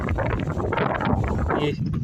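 Strong wind gusts on Ajoba Fort buffeting the microphone, a loud rumbling roar that swells and dips, with a voice partly audible underneath.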